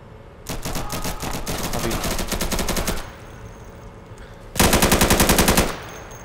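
Rapid machine gun fire in the shooter game Insurgency, two sustained bursts of evenly spaced shots, loud and close, the second burst sharper and heavier after a short lull.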